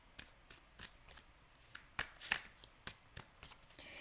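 Playing cards being shuffled and drawn, a series of faint, close crisp riffles and snaps spaced irregularly, quiet with no talking.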